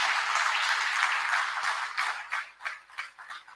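An audience at an Uttarakhand stage event bursts into applause, a dense wash of clapping that thins into scattered claps as it fades.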